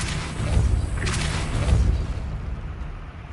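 A Depulso spell cast in Hogwarts Legacy lands as a loud, close, booming burst with a brief whooshing rush that quickly fades.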